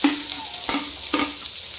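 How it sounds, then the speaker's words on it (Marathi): Chopped onion sizzling and frying in a hot pan for egg Maggi noodles, a steady close crackle broken by two louder scraping stirs of the spatula. "पहिला आपण टाकलाय कांदा"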